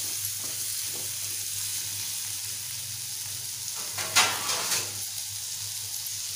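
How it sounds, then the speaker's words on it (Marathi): A pan of Malvani-style drumstick and potato curry with spices sizzles steadily while it is stirred, with a few louder scraping strokes near the end and no talking. "छान मिक्स करून घ्यायचं आहे, म्हणजे सर्व बाजूने मसाले लागले जातील।"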